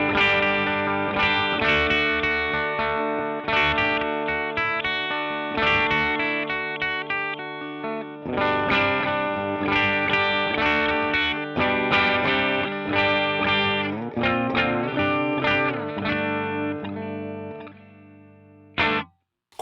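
An electric guitar played through an effects pedal sounds up close in a steady run of picked notes and chords. Each attack is crisp and rings with sustain until a short cutoff at the end.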